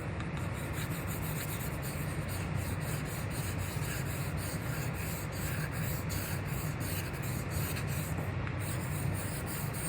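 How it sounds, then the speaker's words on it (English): A China marker drawing across a waterless lithography plate, a continuous close scratchy rubbing that holds steady and fairly loud throughout. "similar to that would be a China marker"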